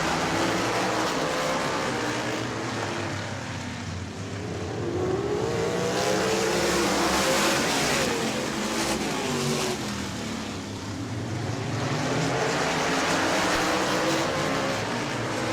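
Sprint cars race around a dirt track late in a Southern Sprint Car Shootout Series feature at Auburndale, their engines roaring loud and continuous with rising and falling revs as the pack sweeps through the turns.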